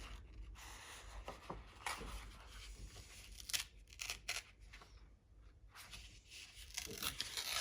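Paper is torn by hand from a corner during a butterfly house craft project, giving several close, crisp ripping bursts in quick succession, fairly quiet, with no talking.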